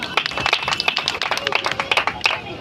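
An audience at an Ambedkar Jayanti poetry recitation claps in quick, scattered bursts, the individual claps fairly close and distinct rather than merging into a roar.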